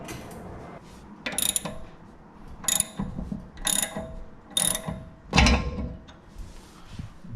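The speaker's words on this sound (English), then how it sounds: "So then you get you a ratchet." A ratchet tightens a lower ball joint on a Lexus GS300, with several bursts of rapid clicking spaced about a second apart, close and clear against faint background clatter.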